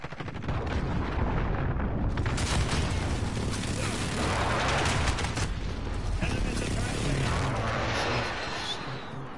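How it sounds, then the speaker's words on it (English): Precision airstrike explosions in a video game, a dense, continuous rumble of booming blasts and crackling detonations that swells loudly for several seconds and then eases off. "Allied precision airstrike in."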